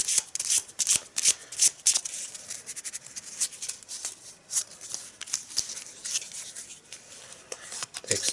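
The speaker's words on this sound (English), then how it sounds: "Let's draw an exhibit card" Cards being drawn and shuffled during a game of Arkham Horror: dry papery flicks and rubbing come in quick irregular bursts, close and fairly quiet, with no voices.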